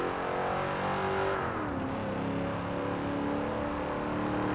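A late-1960s Pontiac Firebird muscle car in Forza Horizon 4 holds a steady, close engine drone that dips in pitch around mid-clip, then builds again as it revs back up, loud and continuous with no talking.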